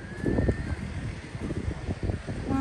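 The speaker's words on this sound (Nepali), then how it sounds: "हावा चलाए है" Wind gusts buffet the microphone outdoors on a morning walk near fishing boats, a low, uneven rumble rising and falling throughout with no voices.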